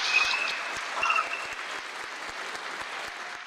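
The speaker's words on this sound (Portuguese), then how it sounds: "Eu tenho certeza que isso merece uma salva de palmas" Audience applause during a Portuguese-language legal debate, moderately quiet and sustained, a dense patter of many hands with a few distinct near claps and faint voices mixed in.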